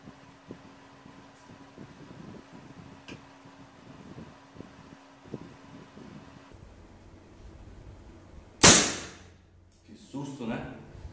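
A 5.5mm PCP air rifle fires once with the bridge left open, a single sharp loud crack that decays quickly. Low murmuring talk comes before the shot and a brief noise follows it.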